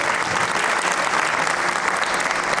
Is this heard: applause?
yes